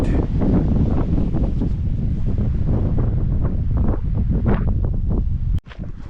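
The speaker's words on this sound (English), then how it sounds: "The wind feels great." Strong gusts buffet the microphone on a hillside hiking trail in San Tan Mountain Regional Park, Arizona, giving a loud, continuous roaring rumble with brief lulls and no talk.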